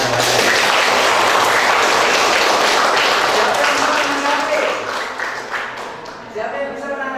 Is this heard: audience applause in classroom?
yes